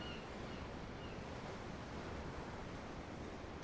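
Steady ocean surf in Tales of Arise, a continuous broadband wash of waves with faint wind, even and unbroken throughout with no talking.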